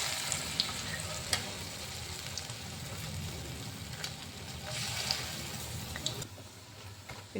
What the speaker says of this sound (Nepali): यसमै फुलौरा बनाउँछु अनि त्यसपछि तरकारी बनाउँछु।